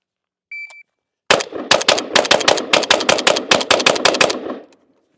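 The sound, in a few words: JRA Gallant Galil ARM rifle firing 15 rounds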